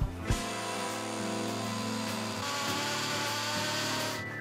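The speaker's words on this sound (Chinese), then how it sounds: "接着来钻一个细细的洞" A power drill bores a thin screw hole while a TOTO bathroom vanity cabinet is being installed, a steady loud motor whine and grind that holds without a break for several seconds, with no talking.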